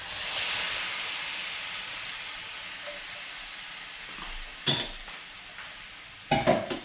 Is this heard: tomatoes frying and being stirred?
yes